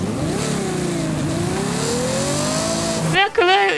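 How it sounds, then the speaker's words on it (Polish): A car engine in Forza Horizon 5 revs with rising and falling pitch, loud and close, then a burst of higher whine near the end. "Jak słychać przy starcie taki samochód?"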